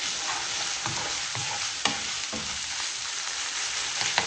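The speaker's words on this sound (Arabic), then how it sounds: "ندير لهم المعدنوس، نخلطهم مليح" A frying filling of parsley, spinach, meat and onion sizzles steadily in a pan while a utensil scrapes and stirs through it in soft irregular strokes, close up.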